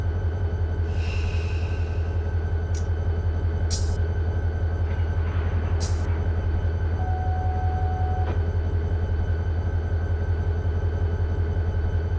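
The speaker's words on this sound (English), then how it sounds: "We got a pretty heavy train now." Constant low rumble of a heavy freight train rolling along in the Run 8 Train Simulator video game, with a few faint high squeals and clanks over the steady drone.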